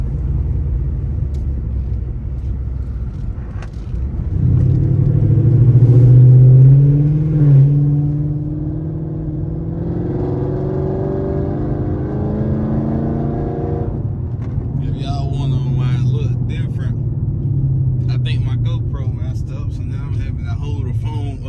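A car drives along a road, a steady engine rumble and road noise heard from inside the cabin, swelling briefly as it accelerates. Someone talks over it throughout.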